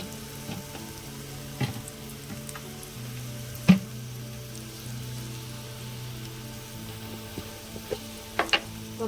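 Garlic sizzling in hot oil as a tempering for okra curry, a steady low fry close by, broken by a few spatula taps and pan clinks, with no talk.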